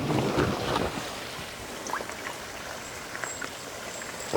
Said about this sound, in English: And first I'm going to jam it through the exhaust manifolds here and let it run out the back.